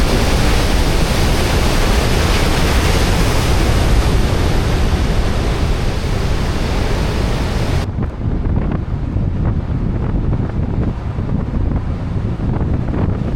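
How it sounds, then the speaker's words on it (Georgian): Large ocean waves on the coast of Madeira roar as a steady, loud broadband wash, heavy surf churning continuously with strong wind noise on the microphone. "ალბათ აღინიშნება ერთი 5-6 მეტრიანი ტალღა."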